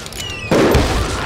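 Gunfire in the Western shooter video game Call of Juarez: Gunslinger: one loud, sharp blast about midway, followed by a booming, rumbling tail over quieter game ambience.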